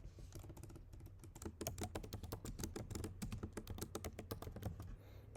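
Steady, quick keystrokes on a computer keyboard while writing React Native code, close and fairly soft, with uneven rhythm and no talking.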